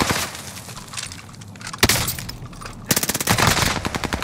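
Automatic gunfire in Call of Duty: Modern Warfare, rapid close bursts of shots with a loud sharp crack near the middle and a dense rattling volley toward the end.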